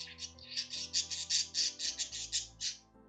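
A pet bird screams in a rapid series of about a dozen harsh, piercing squawks, loud and close, over steady tonal background sounds.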